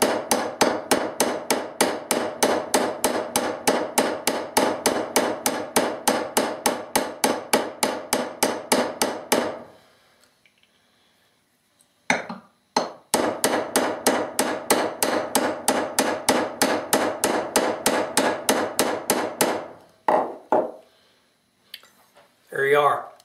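Steady hammer blows drive a pin into an AK rifle gas piston, two long runs of rapid, evenly spaced metallic strikes separated by a brief pause with a few scattered knocks and handling noises.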